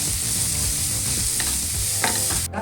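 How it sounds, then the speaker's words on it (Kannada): Finely chopped onion and curry leaves fry in a pan with a steady, loud sizzle, and stirring scrapes break through near the end, with no voices. "ಇದಿಷ್ಟನ್ನು ಈಗ ಫ್ರೈ ಆಗಲಿ"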